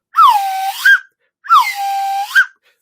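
A whistle is blown twice in quick succession, each a loud, close, sliding toot of about a second, separated by a short silence.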